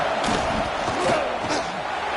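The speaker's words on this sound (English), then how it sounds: "this home crowd is fired up and ready to make a difference today" Home crowd in a football video game roars steadily throughout, a dense, continuous cheering wash with slight swells, no clear voices standing out.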